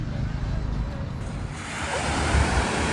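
Surf washing onto a rugged, rocky beach in Saranda, Albania, a steady broadband wash that swells louder in the second half, with some wind buffeting the microphone and no voices.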